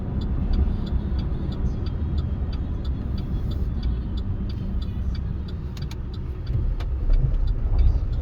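A 2009 Chevy Silverado pickup truck cruises along smoothly, its engine and road noise forming a steady low rumble inside the cab, with faint regular ticking above it and no talk.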